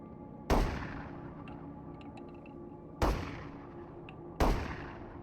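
Three gunshots fired in the video game Into the Radius, sharp loud cracks spaced irregularly with echoing tails decaying into a quiet ambient hum.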